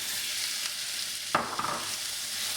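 Chicken breast frying in olive oil in a frying pan, a steady soft hiss of sizzling with a sharper crackle midway as the food is stirred or moved.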